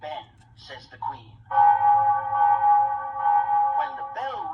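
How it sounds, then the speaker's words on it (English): Big Ben in London sounding a single long, sustained bell-like tone in a cartoon story, with narration and speaking voices just before and after it. "When the bell rings 3 times, that means it is 3 o'clock."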